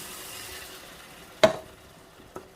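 Beef stock poured into a hot stroganoff pan with mustard and mushrooms: a steady low sizzle, then one sharp loud hiss-splash as the liquid hits, fading quickly, with a smaller clatter near the end.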